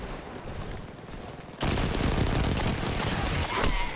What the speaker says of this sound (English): You out here using an auto rifle?